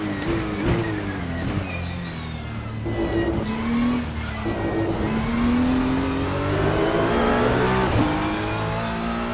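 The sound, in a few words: Ferrari GT3 race car engine in sixth gear, Assetto Corsa video game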